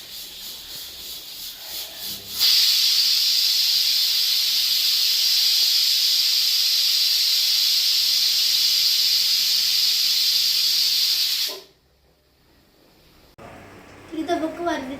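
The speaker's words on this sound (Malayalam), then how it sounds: "ഇവിടെ പ്രഷർ കുക്കറിൽ വേവി" A pressure cooker cooking Kerala karkidaka kanji porridge lets out a loud, steady jet of hissing steam that runs unbroken for about nine seconds, then cuts off abruptly into quiet kitchen sounds.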